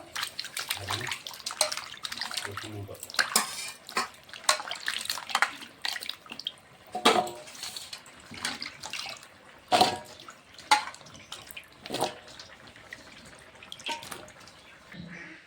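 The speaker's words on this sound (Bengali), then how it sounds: "এখন সবজিগুলো ভালো করে ধুয়ে নেব" Cut pumpkin and potato pieces are washed by hand in a pot of water, with irregular splashes, sloshes and drips close by and short pauses between them.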